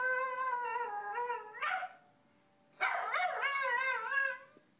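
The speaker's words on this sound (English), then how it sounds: "That puppy singing." A puppy howls in a played video, two drawn-out, warbling howls with a short pause between them, faint and thin as if coming through a small speaker, with no talking.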